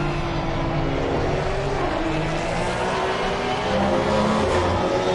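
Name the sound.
race cars driving on track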